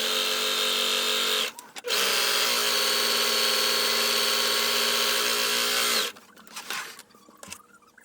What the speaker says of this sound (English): it does need to be serged in order to protect it from fraying, because the poly cotton broadcloth does fray considerably